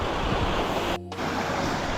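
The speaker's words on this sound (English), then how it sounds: "Another mini waterfall a bit farther up." A small waterfall pours over saturated, boggy hillside ground, giving a steady broadband rush of water with a brief dip in the middle, heard alone without voices.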